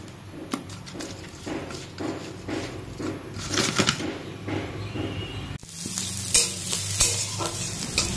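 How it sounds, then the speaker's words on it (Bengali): Prawns for a Bengali malai curry fry in a hot pan, a continuous loud sizzle with stirring scrapes, briefly cutting off midway before the frying resumes strongly, with no talking. "আর এখানে দেখো চিংড়ি মাছগুলো এখন ভেজে নিচ্ছি"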